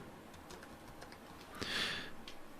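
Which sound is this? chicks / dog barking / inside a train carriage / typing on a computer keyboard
typing on a computer keyboard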